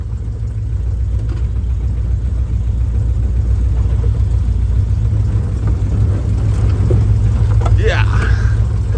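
An early Ford Bronco with a troublesome transmission drives along, its engine a steady low rumble with a faint whir, while a voice talks briefly over it.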